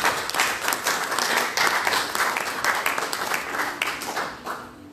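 A church congregation applauds, steady crowd clapping with some distinct individual claps, continuous for a few seconds and fading slightly toward the end.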